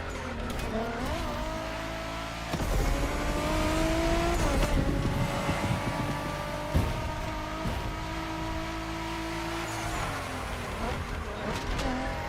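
A Liberty Walk Reign Summit driven hard in The Crew Motorfest, its engine revving and changing pitch continuously, with tire squeal and skidding on sharp corners, loud and close, while a person talks over it.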